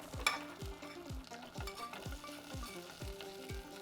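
Nuts fry in butter in a pan for an Indian vermicelli dessert, a soft, steady sizzle under a regular rhythm of spoon strokes scraping and stirring, close and quiet.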